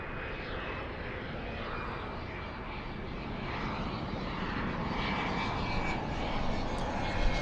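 A Southwest airliner on its takeoff roll from runway 24 left at LAX, a steady broadband engine roar that slowly builds in loudness, heard alone without talk.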